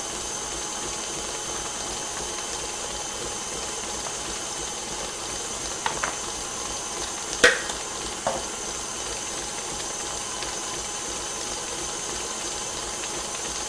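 Boiling water is poured into a gluten-free chocolate cake mix with a steady, soft hiss and a few light clinks midway, with no talking.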